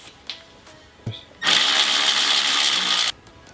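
A power tool removes the top strut bolts on a 2015-or-later Subaru WRX/STI during a coilover install: a few light clicks, then one loud, steady whirring burst lasting under two seconds before it cuts off sharply.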